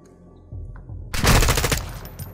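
Automatic gunfire in Call of Duty: Modern Warfare II erupts as a loud, rapid burst of shots lasting about a second, trailing into echoing rattles after a quieter low rumble.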